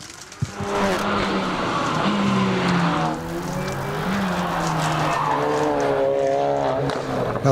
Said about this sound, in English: the Impreza is going up the first part of the track now